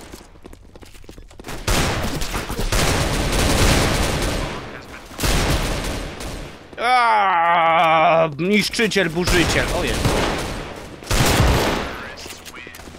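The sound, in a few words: sawed-off shotgun shots in Roblox video game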